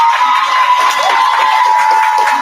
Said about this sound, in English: So let's clap it up again for them.